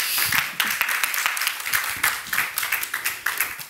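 An audience of doctoral students and guests at a university event claps for a speaker, with distinct individual claps in a steady, moderately dense patter throughout.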